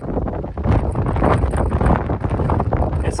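Strong outdoor wind gusts buffet the microphone at a dealer car auction, a loud continuous rumbling roar with rough low thumps and no pause.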